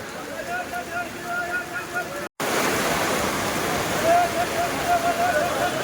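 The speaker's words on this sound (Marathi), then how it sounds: "खूप तुफान पाऊस पडतो एकदम तुफान" Heavy rain pours down at a clothing and vegetable market, a dense continuous wash of noise with a brief dropout partway through and faint tonal sounds in the background.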